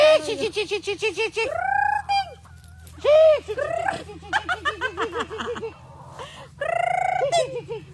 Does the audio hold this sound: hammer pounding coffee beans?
no